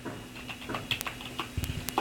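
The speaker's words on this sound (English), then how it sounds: "And then I'll type in the values for this new record" Values are keyed into a database form on a computer keyboard, heard as light, irregular key taps over a steady background hum, close by and fairly soft, with no talk.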